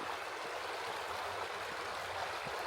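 Brook running steadily outdoors on a snowy Christmas Eve, a continuous broadband wash of flowing water with faint low rumbles beneath, even and unbroken throughout.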